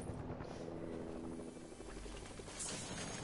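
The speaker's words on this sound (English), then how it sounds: "Helicopter! Oh my gosh." A helicopter in a video game thrums steadily with a broad rotor wash through the whole stretch, fairly loud and continuous, and a voice briefly cuts in near the end.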